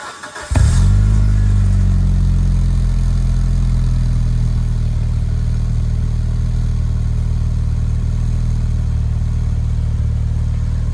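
A JDM Mitsubishi Evo V engine cranks and catches, then settles into a loud, steady, close-up idle that runs uninterrupted with no voices.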